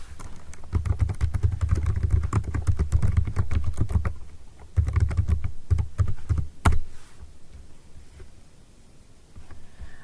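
Fingers type an email address and password on a computer keyboard, a quick run of close, crisp key clicks with a few short pauses and a louder tap near the end.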